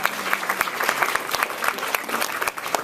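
A conference audience claps in appreciation for the event's organizers, a moderately loud patter of many hands with distinct individual claps standing out, continuous over the short stretch.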